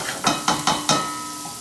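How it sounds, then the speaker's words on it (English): Vegetables caramelizing in a pan, a close sizzle with four quick stirring scrapes in a row, then a steadier hiss fading down. "You caramelize the vegetables. Nice and shiny as always."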